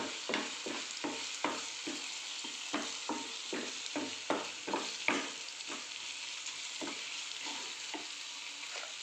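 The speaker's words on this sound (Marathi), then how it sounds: "तिखट आपल्याला जसं लागेल तसं तिखट टाकून घ्यायचं मिक्स करून घ्यायचं" Chili powder is stirred into a frying tomato masala, with a low steady sizzle under rhythmic spatula scrapes that come regularly at first and then fade.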